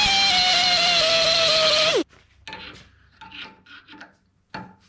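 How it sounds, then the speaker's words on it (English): A power drill bores a hole in an FMTV truck door for a 4 mm nutsert, whining steadily and loudly for about two seconds before spinning down. Light tool clatter and scraping follow. "drill for a new nutsert"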